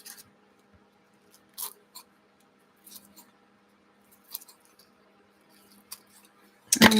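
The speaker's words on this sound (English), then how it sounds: "So I'm going to cut this right at the tip." Scissors snipping the tip of a paper napkin during a craft project, a few short, crisp cuts spaced apart in a quiet room, ending with a louder rustle.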